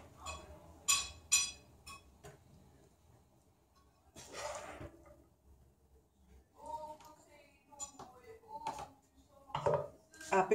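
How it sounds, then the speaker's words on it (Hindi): Sweet zarda rice dished out from a cooking pot: scattered metallic clinks and scrapes of a spoon against the pot and plate, close and intermittent, with quieter gaps between strikes. "इसको डिश आउट कर लेते हैं।"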